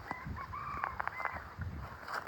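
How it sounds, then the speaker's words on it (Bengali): A jungle fowl rooster crows in a hillside forest in Khagrachhari, Bangladesh, its drawn-out call rising and breaking into several segments at moderate distance amid faint rustling and background clucks. "জঙ্গলে মুরগা থাকে"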